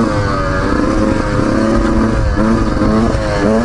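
A 2019 Beta 125 RR Race Edition dirt bike revs steadily throughout, loud and close, its engine note holding and rising in a continuous buzzing drone while the rider heads uphill in the higher gears.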